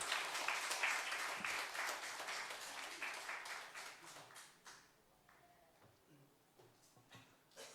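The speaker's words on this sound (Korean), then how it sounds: "목사님 나오실 때 박수로 환영하겠습니다" Congregation applause in a Sunday church service welcoming the pastor to the pulpit, a dense wash of clapping that starts full and gradually thins and fades to scattered claps.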